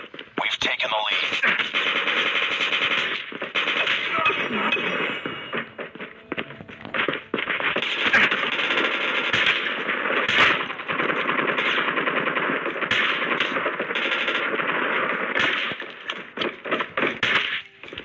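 Rapid automatic gunfire from Call of Duty, dense bursts sustained throughout with brief pauses, voices talking over the shooting.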